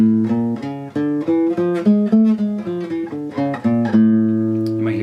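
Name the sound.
guitar playing Hindustani scale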